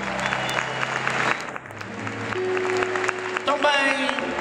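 Audience applause at a concert as a fado singer is introduced, a broad wash of clapping from the crowd under and around someone speaking on a microphone, with music tones sounding in the background.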